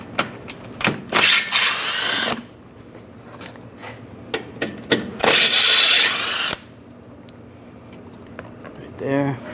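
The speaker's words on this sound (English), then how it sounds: "use a 10mm socket, take these bolts out" A power tool or ratchet whirs in two long bursts while bolts are taken off a lower shield under a 2013-2016 Dodge Dart, with metallic clicks and tool handling between, and someone speaking over it.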